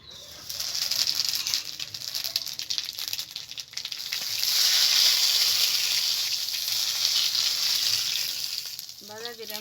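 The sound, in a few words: cumin seeds sizzling in hot mustard oil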